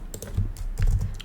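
Quick typing on a computer keyboard, a short close run of light clicking keystrokes with no one talking.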